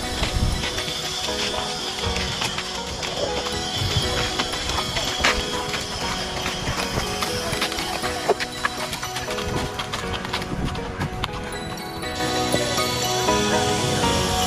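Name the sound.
horse hooves clip-clopping during a horse ride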